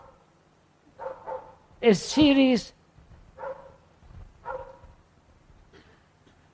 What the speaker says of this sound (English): Could we ask that dog to be quiet for a while?